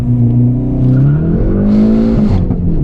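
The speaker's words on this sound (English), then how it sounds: "Just lit the tires off of it." A Hyundai Veloster N makes a launch-control start from about 3,000 RPM with its tires spinning: a loud, close engine note holds, then climbs, and a brief high-pitched squeal cuts through near the end.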